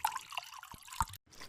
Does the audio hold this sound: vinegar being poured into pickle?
yes